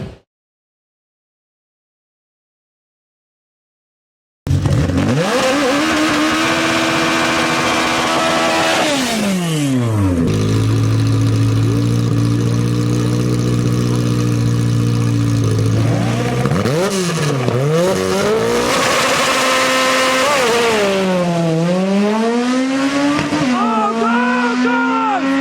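A car at a drag race event launching hard after a silent start, a loud close engine screaming up through gears with sharp shifts and rev drops, then wavering revs and tire noise as it slows.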